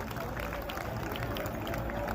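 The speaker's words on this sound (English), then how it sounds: "Clap everyone firmly, सभी से जोरदार तालियां हो जाए बच्चे" Children at a school Mother's Day welcome for the chief guest clap together in a dense, steady round of applause, with voices mixed in.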